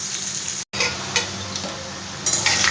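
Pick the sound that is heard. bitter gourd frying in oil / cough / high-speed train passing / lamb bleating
bitter gourd frying in oil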